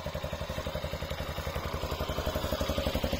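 A motorcycle engine idles smoothly on good oil, with a steady, even rhythmic chugging and a light mechanical clatter. It is heard up close on its own, with no voices.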